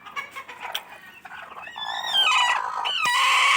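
A brooding hen sitting on a clutch of four eggs gives a run of soft clucks, then breaks into a louder, sustained throaty call that carries to the end, close to the microphone.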